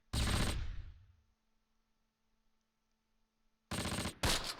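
Close Combat video game rifle fire, Panthers in the Fog scenario, 1944: a loud burst of shots opens, decays into quiet hum, then two more sharp volleys crack near the end.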